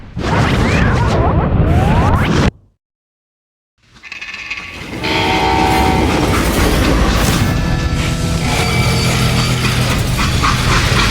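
Freight train in the video game Call of Juarez Gunslinger, loud rumbling and clattering wheels with a whoosh, cut by a sudden brief silence before the rolling noise returns steadily.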